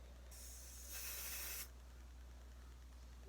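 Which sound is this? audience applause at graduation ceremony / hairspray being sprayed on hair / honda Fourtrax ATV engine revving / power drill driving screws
hairspray being sprayed on hair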